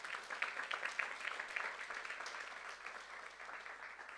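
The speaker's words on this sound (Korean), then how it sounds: "박수로 나와주세요" A church youth-service congregation applauds in a dense, steady wash of clapping, fairly quiet and somewhat distant, holding level throughout.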